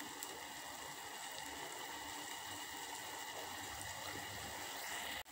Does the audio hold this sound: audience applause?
no